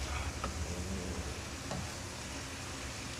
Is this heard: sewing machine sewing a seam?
no